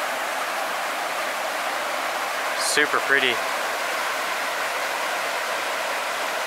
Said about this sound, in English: Meigs Creek flowing right beside the trail here.